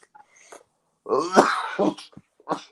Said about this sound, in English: And now you got a cough still